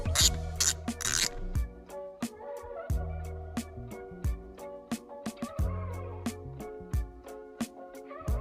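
Ratchet work on the steering wheel airbag screws of a 1999 Camaro, heard as bursts of quick clicking and metallic ticks. Several short runs of clicks come with pauses and clunks between them, close and fairly quiet, with no talk.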